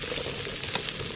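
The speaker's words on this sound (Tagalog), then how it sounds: "Yung ating isda. Haluin muna natin hanggang sa maging golden brown." Fish frying in a pan at a night campsite in the woods, making a dense, steady sizzle with faint stirring, close and even throughout.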